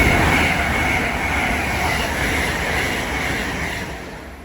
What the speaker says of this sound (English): We also find ourselves a Heathrow Express service bound for Heathrow Terminal 5